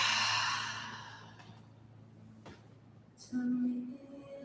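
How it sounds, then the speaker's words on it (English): A slow, soft exhale through the mouth during guided restorative breathing, gentle and breathy at first, then fading, with a short low voiced murmur near the end. "softly exhaling through the mouth"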